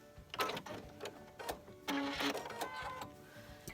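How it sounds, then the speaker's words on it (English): Short bursts of quiet sewing machine stitching during a back stitch on a walking-foot quilting project, a few starts and stops of soft rhythmic clicking, fairly faint and close. "I'll back stitch a little bit, 2 or 3 stitches, and come forward again"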